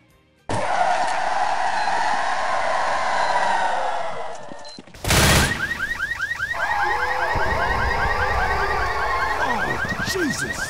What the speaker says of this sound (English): once you plant this bomb, it plays a very familiar sound once it respawns all the zombies